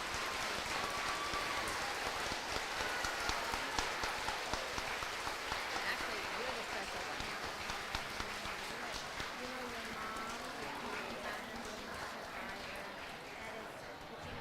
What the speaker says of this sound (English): please give them one last round of applause